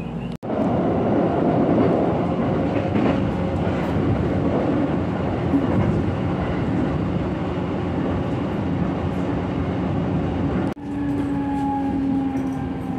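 Train running on rails in Japan, heard from on board between Nagaoka and Niitsu as a loud, steady rumbling roar with a brief jolt near the end.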